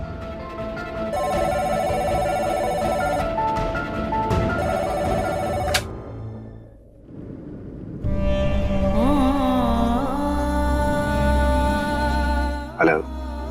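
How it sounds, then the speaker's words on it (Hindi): An electronic telephone ringtone chimes repeatedly, stops briefly with a short pause, then resumes with a warbling melodic ring, loud and close, in a Hindi television drama scene. "इस टाइम किसका फोन आ गया?"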